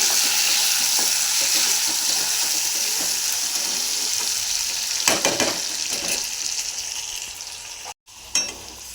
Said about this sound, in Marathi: हिरवी मिरची कढीपत्ता चांगला तळून झालेला आहे आता हरभऱ्याची डाळ म्हणजे चण्याची डाळ चांगली तेलात आपण तळून घेऊया